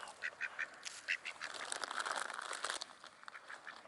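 Ducks on a pond quack faintly in short bursts, a few calls early on and then a softer chatter that continues further off.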